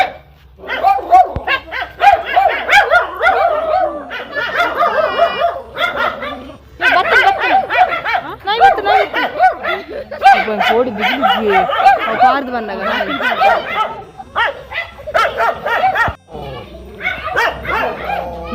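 A dog barks repeatedly in short sharp bursts with a few yips, close and loud, while a person talks over and between the barks outdoors.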